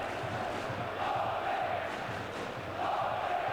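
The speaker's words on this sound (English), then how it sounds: "And just hark at the crowd here in Aalborg." Football crowd at the Aalborg stadium during a European Champions League match against Porto, a dense continuous roar of many distant voices that swells in waves of cheering, with no talk over it.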